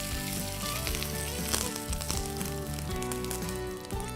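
Peanuts and curry leaves roast in hot oil in a pan, with a loud continuous sizzle and crackle close up and the rattle of tossing and stirring throughout, alone without speech.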